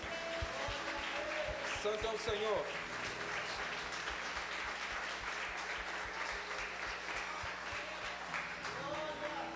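A church congregation claps steadily in a dense, continuous wash of applause, while a voice speaks over it and low thumps sound in the background.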